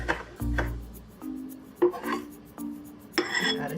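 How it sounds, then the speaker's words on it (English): A knife slicing through tofu, mushrooms or other stir-fry ingredients on a cutting board, giving a handful of separate close, dull cuts and scrapes in a quiet kitchen. "Just slice it also"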